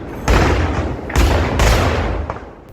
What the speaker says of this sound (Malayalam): ഒന്നിനു പുറകെ ഒന്നായി തുടർ സ്ഫോടനങ്ങൾ